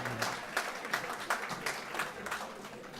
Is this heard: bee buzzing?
no